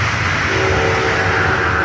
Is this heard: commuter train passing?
yes